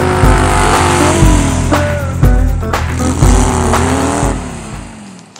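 Engine of a Volkswagen-based Baja swamp buggy runs loud and close, revving up and down in repeated surges with a rough, throaty drone and no talk over it.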